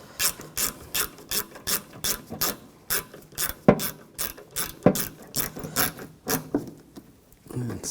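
A ratchet tightens a hood hinge bolt on a 2014-2020 Nissan Rogue, giving a steady run of about fifteen close, crisp clicking strokes with a few sharper metallic knocks along the way.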